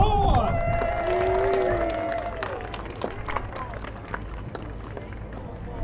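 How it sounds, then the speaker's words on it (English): Outdoor crowd at a Victorian festival contest in Llandudno bursts into applause and cheering, loud at first with whoops and whistles, then settling into scattered claps and murmuring. "Big round of applause and a cheer once again"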